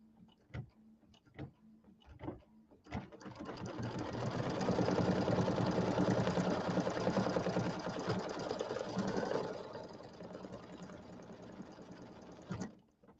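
An embroidery machine tacks a small square of fabric down for a settee pillow, starting after a few scattered clicks, running in a steady rapid stitching buzz for several seconds, then easing off and stopping with a final click.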